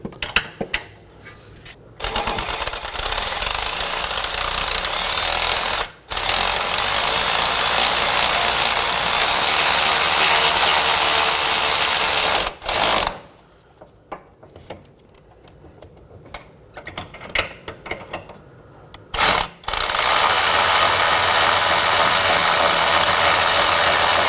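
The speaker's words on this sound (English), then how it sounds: "Now let's snug down all of our chassis side bolts." A ratchet clicks steadily and loudly while snugging down chassis-side bolts on a Nissan Maxima 3.5L V6 during a lower engine torque strut mount replacement, with a few brief pauses in the ratcheting.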